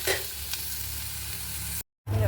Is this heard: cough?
no